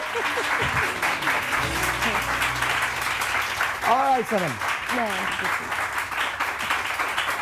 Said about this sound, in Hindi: बहुत सारी तालियां।